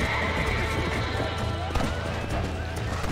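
Horse in the video game Red Dead Redemption whinnying over a dense game soundscape of hoofbeats and other effects, loud and continuous throughout.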